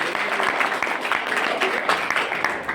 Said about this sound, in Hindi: इस इनकम के लिए जोरदार ताली मारिए सर